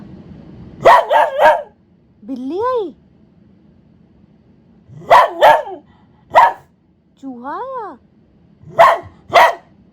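A dog barks at night indoors in quick clusters of sharp barks, broken by long rising whines, while a person talks close by.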